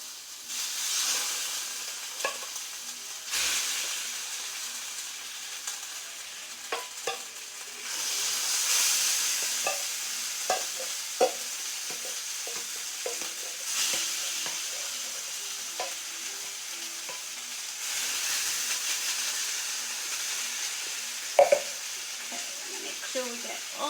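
Beans frying in hot oil give a steady, broad sizzle and hiss throughout, with scattered pops and crackles and occasional louder surges as they settle, close and fairly loud with no talking.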